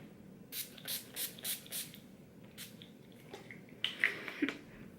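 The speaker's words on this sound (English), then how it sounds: "Take the NYX First Base Primer Spray, and I'm going to spray it" A series of short aerosol sprays from a NYX First Base primer spray, five quick bursts in a row with a brief hiss afterward, close and fairly quiet.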